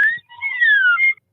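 A single clear, fairly loud whistle, a rising note, a short gap, then a long sliding descending tone ending in a brief chirp, heard alone without talk.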